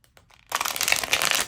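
Cards being shuffled close up: a brief quiet pause, then a rapid riffling flutter of cards lasting about a second.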